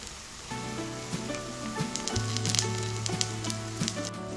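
Rava kara paniyaram frying in a covered pan over medium flame, a steady soft sizzle with crackling pops and a faint hum, no talking.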